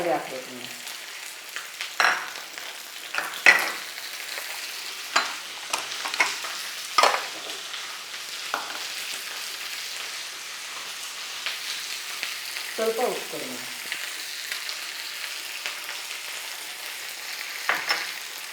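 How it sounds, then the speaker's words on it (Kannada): Capsicum fries in hot tempering with dried red chillies and curry leaves for kodo millet bisibelebath: a soft continuous sizzle broken by repeated sharp stirring clatters near the pan. "ಕ್ಯಾಪ್ಸಿಕಮ್ ಒಗ್ಗರಣೆಗೆ ಹಾಕೊಳ್ಳೋದು"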